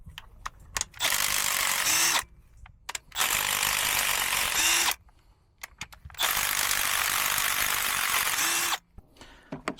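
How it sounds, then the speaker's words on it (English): A ratchet removing injector retaining bolts on an MX-13 diesel engine, heard as three long, loud bursts of rapid close clicking separated by short quiet gaps. "we'll get the retaining bolts out."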